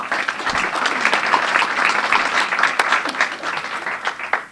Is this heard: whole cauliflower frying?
no